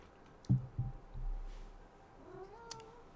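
A house cat lets out a couple of short, soft chirps followed by a drawn-out, rising meow, faint in a quiet indoor room.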